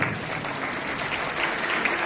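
Loud, sustained clapping from a church congregation fills the clip, with only faint traces of voices beneath.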